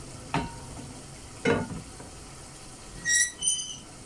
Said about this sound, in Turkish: Burada da pirinçlerimi kavuracağım.